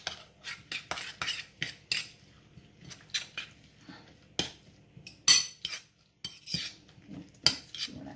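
Grated zucchini batter with an egg being mixed in a bowl, close irregular clinks and scrapes of a utensil against the dish in short bursts with quiet gaps between, no talking.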